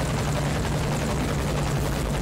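A helicopter in the video game Metal Gear Solid V: The Phantom Pain thrums with a steady, loud rotor drone that fills the short clip without pause or talk.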